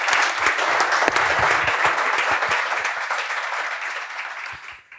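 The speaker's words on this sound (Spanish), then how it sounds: "le damos un aplauso y empezamos" An audience applauds at a talk event, a full, dense burst of clapping that holds strongly and then thins and fades away at the end.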